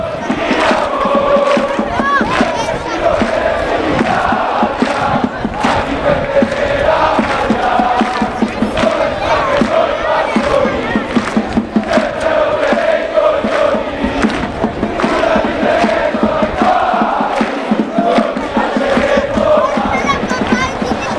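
Brescia Curva Nord supporters chanting in a Serie B stadium, a dense continuous crowd roar with rhythmic sung chants and shouts throughout.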